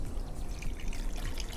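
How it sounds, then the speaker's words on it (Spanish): Water poured into a cooking pot while making ají de gallina, a continuous soft trickling stream, steady and fairly close, with no talking. "Aquí le voy a echar un poco de agua, pero tú lo puedes reemplazar por leche si quieres"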